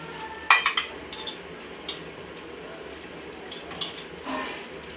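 Metal utensils clink against a pan as fried hilsa fish is lifted out, a sharp cluster of clatters up front followed by a few lighter taps over a low background hum.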